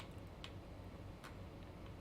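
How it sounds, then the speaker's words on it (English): A live C4 bomb in the video game Metal Gear Solid 2 gives faint, sparse ticks over a low steady hum. "This is a C4 bomb."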